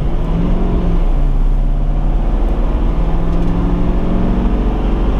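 A Chevrolet Silverado with the Duramax L5P diesel accelerates hard up a grade while towing a trailer, its engine a loud, steady drone heard from inside the cab without any talking.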